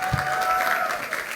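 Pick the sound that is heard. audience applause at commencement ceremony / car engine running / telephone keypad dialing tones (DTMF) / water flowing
audience applause at commencement ceremony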